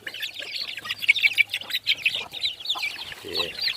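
A mother hen with a single chick clucks in a coop basket, her low clucks close by and mixed with a steady run of high, thin chick peeps throughout.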